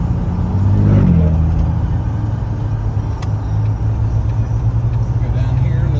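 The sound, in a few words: 2000 Jeep Wrangler Sahara driving on road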